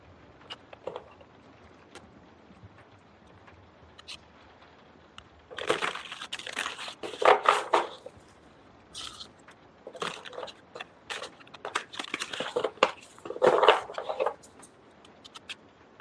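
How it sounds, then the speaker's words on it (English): Large tarot cards being shuffled by hand, bursts of papery riffling and shuffling close by in several uneven clusters separated by short quiet gaps, with no talk. "Trying to shuffle these big ass cards and I can barely shuffle them."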